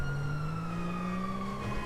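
Police car sirens wail steadily in the GTA V video game, a continuous gliding tone heard close and fairly loud over a busy background with no talking.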